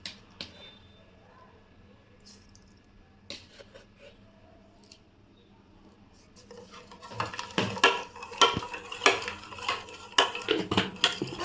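Spoon scrapes and clinks in a pot of mango pudding mixture made with rice flour and sugar, sparse at first and then a busy burst of stirring and knocking toward the end.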